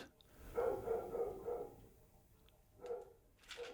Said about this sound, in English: The dog seems to have encountered a squirrel outside.